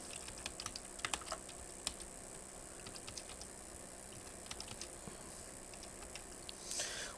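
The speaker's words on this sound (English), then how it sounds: "All you want to do after that is you want to type in the address." A web address being typed on a computer keyboard, a quick irregular run of light key clicks with short pauses, close but quiet, no voices.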